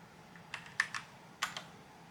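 Keys struck on a computer keyboard while a password is entered, a handful of crisp clicks in two short bursts, close and fairly quiet against a faint room hum.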